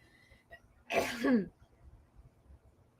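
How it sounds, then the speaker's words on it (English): A single short, raspy throat clearing, close and fairly loud, in an otherwise quiet room. "I was clearing my throat."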